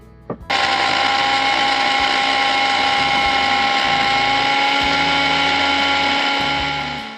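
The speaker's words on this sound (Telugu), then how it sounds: "ఇప్పుడు మూత పెట్టుకొని మిక్సీ పట్టుకుందాం" A mixer grinder grinding dry fruits and makhana whirs loudly and continuously for several seconds after a brief click at the start, with a steady high-pitched motor whine.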